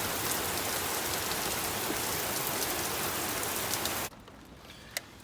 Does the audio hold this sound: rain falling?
yes